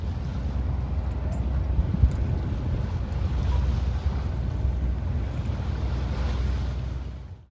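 S/V Quetzal, a sailboat, underway after leaving Block Island in light wind, with a steady low rush of water and wind noise buffeting the microphone throughout, no voices.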